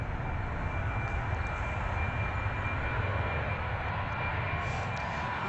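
Airplane flying low overhead near an airport, a steady broadband engine roar that stays loud and continuous throughout with no voices.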